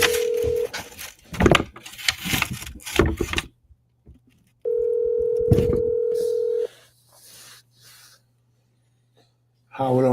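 Phone ringback tone before a call goes to voicemail: two steady electronic tone bursts, one brief and one about two seconds long, mixed with nearby talk and a low hum.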